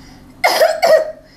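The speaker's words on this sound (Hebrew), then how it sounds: "בואי תעשי שיעול אחד קטן" A woman doing physiotherapy coughs on request, producing two short, close, loud coughs in quick succession against a quiet background.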